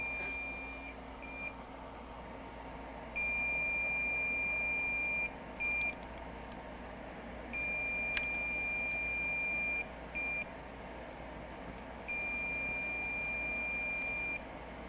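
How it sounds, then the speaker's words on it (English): A Hakko soldering station beeps in long, steady high-pitched tones repeated at intervals over a low constant hum, with short gaps between the beeps and a brief click midway. "Thing's just gonna beep and beep and beep."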